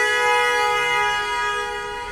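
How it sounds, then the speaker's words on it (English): A car horn honking in city traffic, one loud, sustained, tonal blast that stays close and clear and then fades slightly toward the end, with no talking over it. "Who's he honking at now?"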